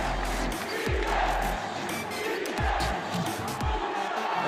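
A basketball arena crowd at an MPBL game, Pampanga against Sarangani, keeps up a steady roar and cheer under the commentary, with sneaker and ball thuds coming through.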